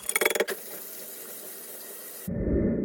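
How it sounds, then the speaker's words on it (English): Canned kidney and Great Northern beans rinsed and drained in a kitchen sink: a brief burst of splashing at the start, then quiet, and a running tap near the end. "You want to rinse and drain these."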